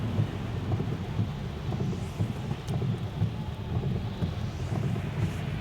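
Steady, dense rain in Jeddah, Saudi Arabia, roars continuously with low rumbling wind noise, a broad wash of sound with no voices.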